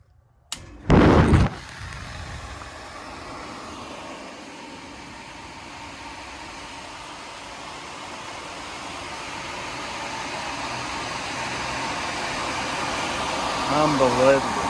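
A portable welding extraction fan runs with a steady airy whoosh that builds slightly over time, after a brief loud knock near the start.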